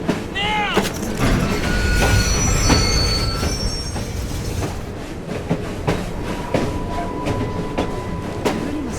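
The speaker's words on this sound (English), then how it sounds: "Man, had to catch a runaway train." A runaway train braking in Assassin's Creed Syndicate: loud, piercing wheel squeal and screeching metal over rumbling carriages, with clattering rail clicks continuing as the squeal fades.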